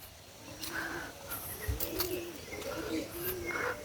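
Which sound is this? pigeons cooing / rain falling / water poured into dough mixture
pigeons cooing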